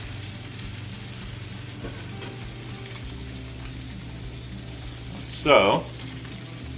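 Butter sizzles steadily in a hot skillet beside bison burgers, a constant close frying hiss with a brief louder crackling burst near the end; a voice speaks briefly.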